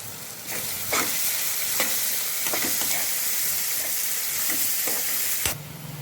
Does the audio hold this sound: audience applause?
no